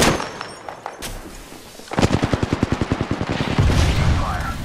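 Rapid automatic gunfire in Apex Legends, a steady burst of loud close shots in quick rhythm after a brief single shot, with game sounds around.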